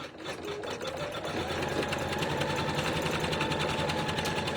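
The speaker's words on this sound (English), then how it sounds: "I'm going to put the presser foot down, and I'm going to let it run the final finishing stitch." A sewing machine runs a finishing stitch on fluffy flower puffs, a steady, close, rapid mechanical whirring with even rhythmic clatter that keeps going without pause.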